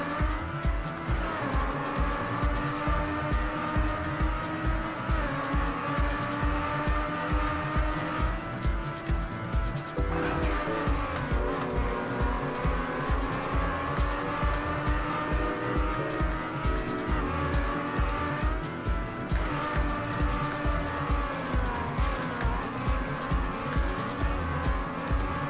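Car drifting in the Trackmania Nations racing game, a steady loud engine roar with repeated squealing tires through sweeping slides, continuous for the whole stretch with no voices.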